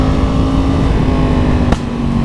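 A Yamaha MT-10 motorcycle roars loudly and close as it accelerates hard, the engine noise thick and continuous before a sudden brief break near the end.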